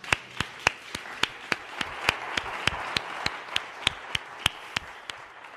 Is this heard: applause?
yes